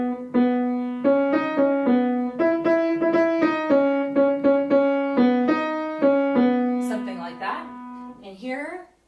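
Piano playing the Shosholoza melody in a major key, a simple stepwise tune of clear, sustained notes at a moderate, even pace, ending in a few fainter, lingering tones.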